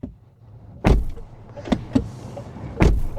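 Doors on a Leapmotor C10 SUV shut with solid, muffled thuds, one loud close followed by a couple of lighter knocks and another firm slam, near and without talk.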